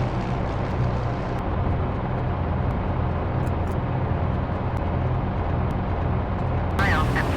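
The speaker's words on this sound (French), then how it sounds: "l'avion disparaît dans les airs" A propeller airplane drones steadily overhead in a continuous broad roar that holds level throughout, with a brief faint chirp near the end.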